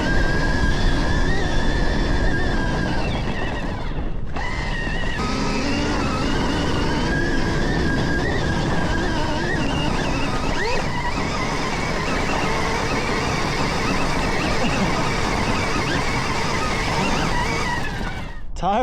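An electric dirt bike rides a motocross track, with a steady whirring motor, tyre and dirt noise, and wind running continuously and loudly throughout, plus a brief dip near the start.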